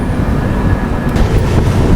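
The Shalimar Kurla Express departs Sini Junction. Up close, its carriages give a loud, continuous rumble and rattle, with a brief metallic squeal partway through and no talking.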